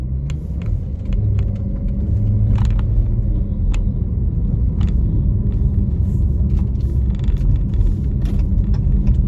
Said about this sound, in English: I'm entering this traffic circle, so bear with me.